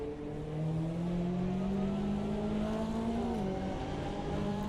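Race cars roar past on the Daytona track in a sim racing game, a loud sustained engine drone with rising pitch that dips briefly near the end, one car closely following another with no talk.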